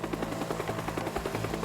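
A helicopter in the video game Teardown, its rotor beating in a fast, steady thump, close and continuous with no talk over it.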